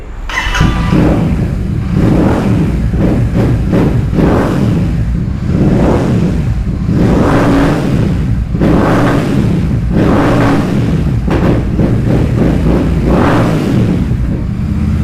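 A powerful Royal Enfield GT650 motorcycle engine runs loudly and steadily, with rhythmic revving swells every second or two and no talking.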